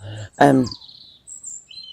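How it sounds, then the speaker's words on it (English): A seagull gives brief, scattered calls outdoors, clear and fairly close, with a short spoken phrase breaking in among them. "let's let the seagull go"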